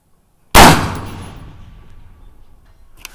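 A single loud rifle shot breaks sharply with a Geissele SSA two-stage trigger, an abrupt close report that decays into a long rolling echo across open ground, followed by a faint metallic tick.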